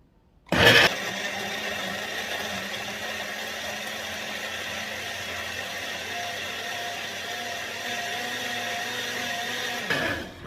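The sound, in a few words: blender running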